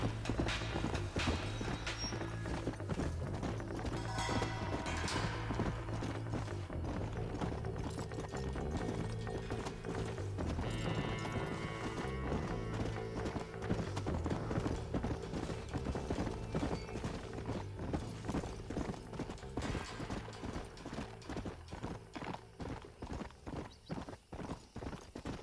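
Rapid, steady hoofbeats of a galloping horse in the video game Red Dead Redemption drum on without pause, loud and close, with an occasional faint whinny.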